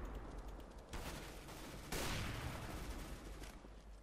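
Gunfire in the video game Counter-Strike: Global Offensive comes as sharp bursts of shots, with one loud crack about halfway through that trails into a noisy decay.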